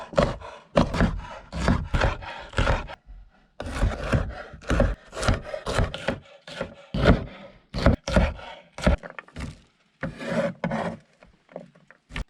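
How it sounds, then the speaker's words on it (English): A knife chops through jalapenos on a wooden board in rapid, close bursts of crisp thuds and scraping, pausing briefly between rounds, with no voices. "I'm chopping, and I've got a massive bowl of jalapenos still to do"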